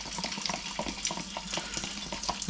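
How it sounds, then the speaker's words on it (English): Cold tap water pours in a steady splashing stream into a small amount of dumpling starch slurry, running continuously at close range with no talk. "Now just some cold water to dissolve this."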